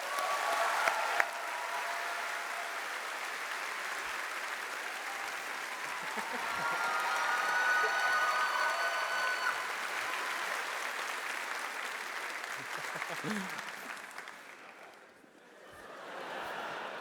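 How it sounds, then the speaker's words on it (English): A convention hall audience at a panel celebrating The Witcher's 10th anniversary breaks into sustained applause, a dense wash of clapping that swells, fades near the end and briefly resumes. "Let's get another warm round of applause for Mr."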